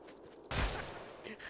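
A single sharp gunshot from the military shooter ArmA II, with a loud broadband crack and brief tail, rising out of quiet background noise.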